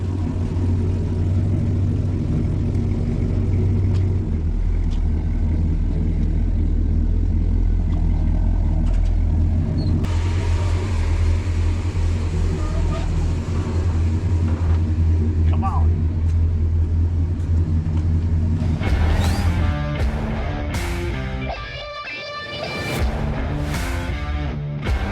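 A 1968 Oldsmobile 442 with a four-speed manual idles with a deep, steady low rumble throughout, while someone talks over it; near the end a sharper, tonal burst of mechanical noise cuts in.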